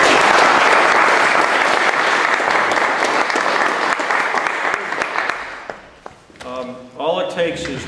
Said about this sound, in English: All right, can we have a round of applause?